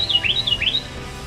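Birds chirp outdoors beside a car during a roadside air filter and tail light change, giving two quick rising-and-falling whistled calls of moderate loudness over faint background hum, with no talk.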